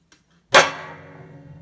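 A single sharp crash of stacked cymbals, a bright trashy hit that rings and decays over about a second, close and loud, heard alone.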